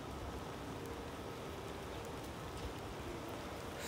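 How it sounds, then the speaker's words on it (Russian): Soft, steady patter of light rain, quiet and even throughout, with no one speaking. "Ой, опускается дождик"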